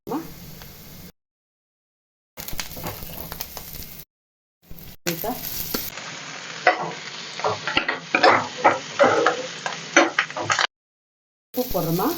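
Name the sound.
onions and green chillies frying in a pan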